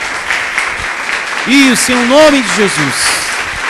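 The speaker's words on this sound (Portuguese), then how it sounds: "Louve a Ele e agradeça com suas palmas por esse Deus maravilhoso" A church congregation claps during a worship service, a dense wash of applause running under a voice speaking loudly over it.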